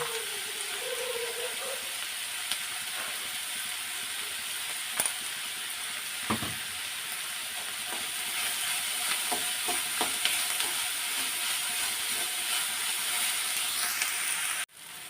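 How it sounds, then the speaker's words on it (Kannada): Onions frying in a pan for an egg masala gravy, a steady close sizzle with occasional stirring scrapes and clicks, continuous throughout without talk. "ಈರುಳ್ಳಿ ಫ್ರೈ ಆಗ್ತಾ ಇದೆ"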